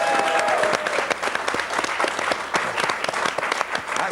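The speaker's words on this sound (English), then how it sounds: "A little round of applause for Gary in Cheadle" A studio audience at a radio show gives a round of applause, dense steady clapping that carries on for several seconds, close and fairly loud with a few cheers mixed in.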